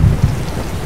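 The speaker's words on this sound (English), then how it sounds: "Great rolls of thunder accompany flashes of lightning" A deep rumble of thunder rolls beneath steady, heavy rain, with a low boom near the start, during a storm over Dajian Mountain on the Kenting coast, Taiwan.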